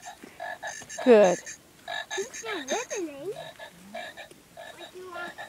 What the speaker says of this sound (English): there's a real frog here. Look at this, a leopard frog.